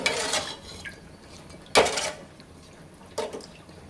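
Salted rice mixture being stirred in a pot for bagara rice, giving a few separate scraping, clinking strokes of a spoon against the metal with quiet gaps in between.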